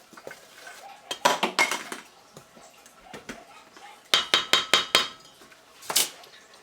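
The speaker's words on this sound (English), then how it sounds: "Now I like to mix up all of my dry ingredients." Dry pizza dough ingredients are stirred in a bowl at home, with a utensil clinking and scraping against the side in quick bursts and brief pauses, fairly close and moderately loud.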